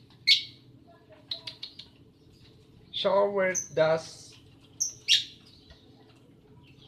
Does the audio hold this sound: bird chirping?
yes